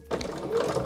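A sewing machine stitches a straight quilting line across a space-themed quilt design, a brief, close, steady mechanical whir with a fast stitching rhythm.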